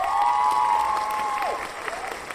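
Crowd applause on a livestream, a soft, steady wash of clapping beneath a sustained tonal sound that sweeps down partway through.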